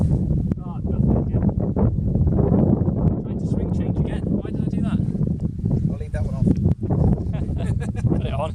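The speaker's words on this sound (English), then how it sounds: "It's quite a strong wind." Strong wind gusting across an open golf course, a steady broadband roar and microphone buffeting that runs throughout, mixed with faint rustling and occasional voices in the background.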